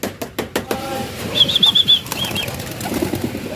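Young pigeons take off from a loft, wings beating in loud, close, rapid flurries of flapping, overlapping and irregular, with a brief thin chirp in the middle of the commotion.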